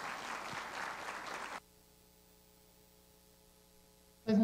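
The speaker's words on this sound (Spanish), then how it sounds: "les pido nuevamente un aplauso para la doctora Mónica González Contró" An audience applauding a speaker at a talk on violence against children, a dense burst of clapping that stops abruptly after about a second and a half, followed by near silence.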